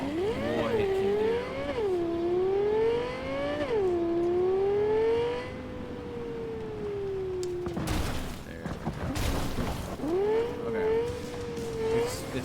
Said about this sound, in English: It sounds like a supercar.